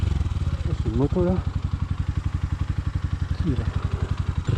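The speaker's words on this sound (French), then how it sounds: "C'est une moto là." A motorcycle engine idles and putters with a steady low pulsing beat on a jungle road in Vietnam, close by, while someone speaks over it briefly.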